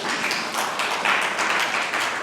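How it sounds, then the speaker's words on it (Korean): A church congregation claps together after a testimony, a dense, steady burst of applause heard up close from start to finish. "보통 간증을 마치면 박수를 치니"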